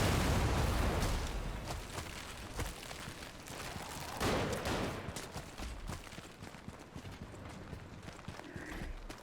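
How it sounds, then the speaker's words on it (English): Cannon fire in the video game Lies of P: a heavy booming blast opens, then a second thump follows a few seconds later, both over a dense game soundscape with rattling, clattering effects and no talking. "I'm being shot at by a cannon."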